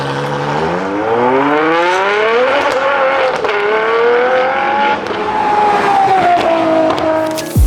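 A Ferrari 812 Competizione's front-mounted V12 revs hard and loud through rising, stepping gears on the road, the pitch climbing repeatedly before settling into a high sustained wail, with a sharp burst at the end.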